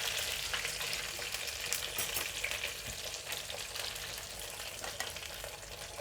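Paneer cubes frying crisp in oil in a pan for a spicy paneer burger, a steady bright crackling sizzle heard close and uninterrupted throughout.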